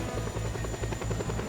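A helicopter in Just Cause 2 thumps with a fast steady rotor chop and engine whine, close and continuous.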